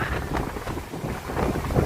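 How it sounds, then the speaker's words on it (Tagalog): Strong wind roars by a seaside hut during a typhoon, with waves washing underneath in a steady, loud broadband rush that gusts up and down throughout. "grabe ang lakas ng hangin, ang alon, grabe, dito sa may hawagang kubo"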